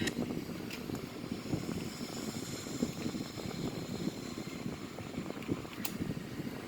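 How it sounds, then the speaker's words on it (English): An Airbus A340-313X lands on runway 14 at Zurich with thrust reversers deployed, producing a steady, loud low rumble that holds without a break for the whole stretch. "Here we have a safe and beautiful landing of the Airbus A340 313X at runway 14 at Zurich International"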